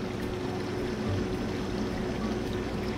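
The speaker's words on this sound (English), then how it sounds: "That's draining going out through here." Water draining out of an aquarium sump through filter floss in a fish shop, a steady rushing and pouring flow with a low gurgle, continuous and close throughout.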